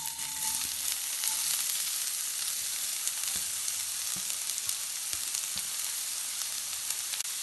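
Chopped onion, ginger and garlic sizzle steadily in hot sesame oil, a bright continuous frying hiss with soft occasional scrapes of stirring, fairly quiet and without voices.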